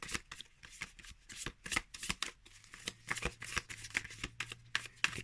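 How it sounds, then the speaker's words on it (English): Pulp Tarot cards, new and still slightly sticky from plastic wrapping, being shuffled by hand: a steady run of quick riffling flicks and soft slaps, close and alone with no talk. "we are going to shuffle them"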